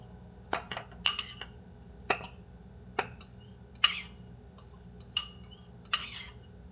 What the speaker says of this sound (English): I mixed in my quinoa.